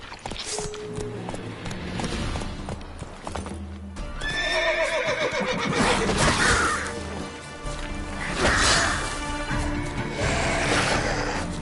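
A horse neighs loudly several times in a busy outdoor scene, its whinnies rising over steady clip-clop hoofbeats and a dense wash of background noise.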